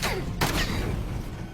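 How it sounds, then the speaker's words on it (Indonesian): A sharp pistol gunshot from the film The Doorman cracks out close and loud, followed by a booming reverberant echo and rumbling noise, part of a tense action scene. "Boris yang berlagak tidak tahu apa-apa akan menembakkan pistolnya ke tubuh Ali"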